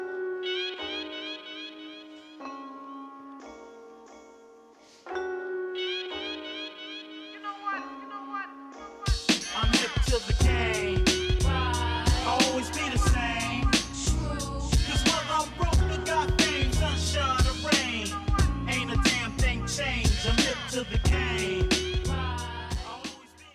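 A mid-90s hip-hop track built on jazz samples opens with a sparse, bright keyboard loop, then a dense, punchy drum break and full beat crash in and carry on loudly to the end.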